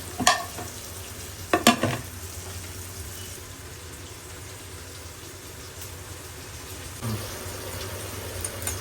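Chicken cooking over a medium flame under a lid for coconut-milk biryani, a steady low sizzle and bubbling hiss, with a few clattering knocks near the start and a soft thump later, no speech.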